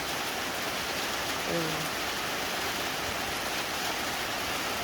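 Steady rain patters down on a rural backyard with a cattle pen, a dense even hiss of drops on surfaces throughout.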